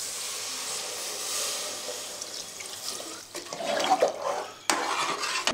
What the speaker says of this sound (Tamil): இப்போ தண்ணியை சேர்த்துக்குங்க.